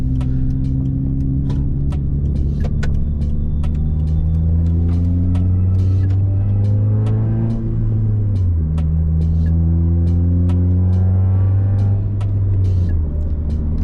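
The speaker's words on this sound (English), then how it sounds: "So this is the sound closed." Cabin drone inside a Hyundai Tiburon on the road with its aftermarket sunroof shut: a loud, steady low engine hum that shifts pitch as the car changes gear midway, with faint ticks and rattles on top.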